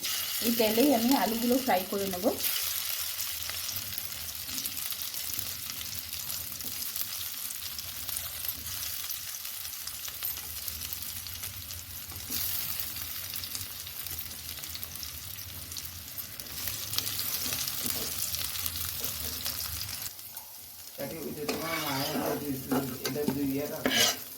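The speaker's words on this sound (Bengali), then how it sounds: "এখন এগুলো ভাজা করে নেব ওই মাছের তেলের মধ্যেই আমি আর আলাদা তেল দেবো না" Boiled potato strips fry in leftover fish oil, a steady sizzling crackle throughout, with stirring scrapes near the start and end and a voice speaking briefly over it.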